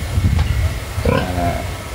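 Male pigs on a farm grunting and oinking close by, a few short rough grunts followed by a longer tonal squeal over low background rumble.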